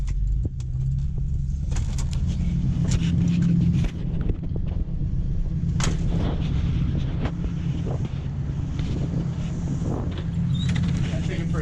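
A 1966 Oldsmobile Toronado rolls forward with a steady low engine rumble throughout, mixed with wind buffeting on the microphone and light clatter.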